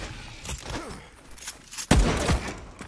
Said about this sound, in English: Howler's shooting at someone.